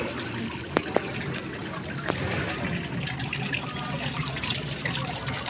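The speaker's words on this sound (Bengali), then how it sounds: "ক্যাফে পল্লী এই রেস্টুরেন্টের ঝর্ণা" A restaurant fountain in Kapasia, Gazipur runs with a steady splashing trickle of water, broken by a few sharp clinks and taps, with indistinct voices faintly audible behind the flow.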